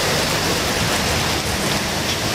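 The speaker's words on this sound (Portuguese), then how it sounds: "Eu sabia, Joel, era muita chuva." Heavy rain pouring during a flood-causing storm in Nova Friburgo, Brazil, a dense, constant loud hiss of downpour with no break and no voices.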